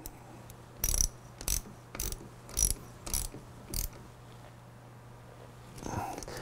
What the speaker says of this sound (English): reverse the ratchet